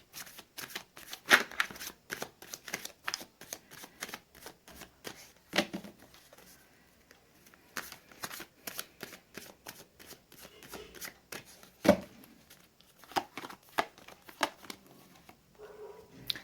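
Tarot cards are shuffled and drawn by hand in a quiet room, making rapid papery flutters and snapping riffles in uneven bursts, close and fairly soft, with no speech.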